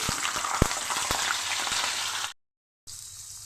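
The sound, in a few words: potatoes frying in a pan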